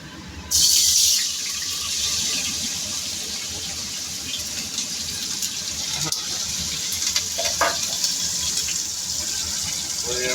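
Cubed paneer goes into hot oil in a pan, setting off a sudden loud hiss that settles into a steady, dense sizzle heard up close.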